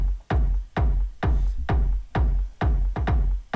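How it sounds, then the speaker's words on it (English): Techno loop built around a heavy, punchy kick drum groove, booming beats roughly every half second with an occasional extra syncopated kick, layered with hissy percussion, loud and close with no talking. "So you heard that little groove kick right there, just to kind of give some variation."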